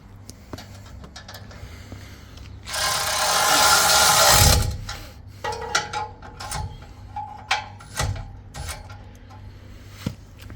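Nuts and bolts on a spoiler bar fitted to a new Ford Ranger are run in with a power tool: a loud sustained whirring burst lasting a couple of seconds, followed by scattered ratchet clicks and metallic taps nearby, with no talking.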